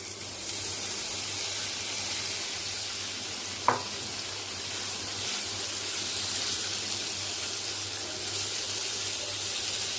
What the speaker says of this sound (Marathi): तेल गरम झालेलं आहे तेलावर आता शालो फ्राय करून घेते पनीर